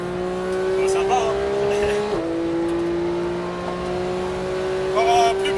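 Steady in-car engine drone from a Porsche 991 GT3 at Paul Ricard, holding high revs with a brief dip around a gear change, loud and continuous, with people talking faintly over it.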